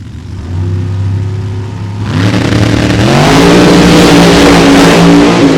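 A Pro Charged, Miller-built big block Chevy drag car idles with a low throb, then launches hard into a loud, rising full-throttle roar that holds for several seconds, close and alone with no voices.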